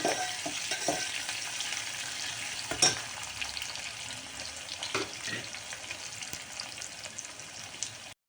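Curry leaves and chopped onion fry gently in oil after mustard seeds pop, giving a quiet, steady sizzle with a few stirring knocks and scrapes.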